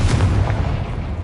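Confringo fire spell explosion in the video game Hogwarts Legacy: one short, heavy booming blast with a rumbling low tail, heard alone.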